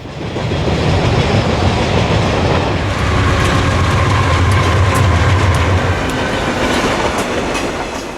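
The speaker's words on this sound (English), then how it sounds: "A westbound general merchandise train makes short work of rolling down the long descending grade at Summerhill." A westbound Conrail general merchandise freight train rolls down the long descending grade at Summerhill with a steady loud rumble, wheels clattering and faint metallic squeals over the roar.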